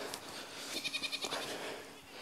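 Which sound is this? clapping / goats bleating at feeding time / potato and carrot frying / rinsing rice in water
goats bleating at feeding time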